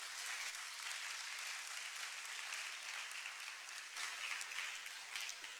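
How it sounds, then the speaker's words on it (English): An audience claps steadily at a Ghana National History Day event at the University of Education, Winneba, a faint, distant and sustained applause lasting several seconds. "Give a clap to yourself, to your ancestors."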